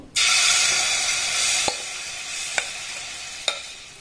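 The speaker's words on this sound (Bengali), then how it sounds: "এটাকে আমি খুব ভালোভাবে কন্টিনিউ নাড়াচাড়া করব" A semolina and milk mixture hits hot ghee with a loud sudden sizzle that stays steady and hissing while it is stirred continuously over low flame, with three sharp spoon taps on the pan near the end, up close and without speech.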